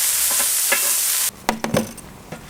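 Smashed lamb koftas hiss on a hot grill in a steady sizzle, then several sharp scrapes and knocks ring out as they are flipped.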